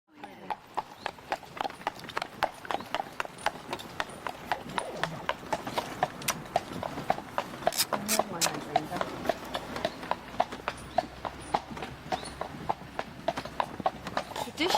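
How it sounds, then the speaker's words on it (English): Hooves of a horse pulling a carriage clip-clop in a steady, even trot on a hard road in England, crisp and close, with people talking underneath. "we came upon this horse and carriage"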